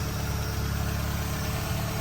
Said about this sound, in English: And now the revs are hanging.